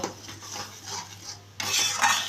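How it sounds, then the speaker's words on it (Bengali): A spice masala with turmeric is sautéed in a pan, with soft scraping and clinking of a spoon against metal over a faint sizzle, turning louder and brighter in the final second. "সামান্য হলুদ দিয়ে মশলাটাকে আমি ভালো করে কষিয়ে নেব।"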